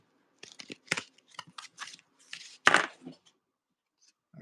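Tarot cards being shuffled by hand, a run of short papery riffles and snaps, fairly close, with a louder burst near the end and no talking over it.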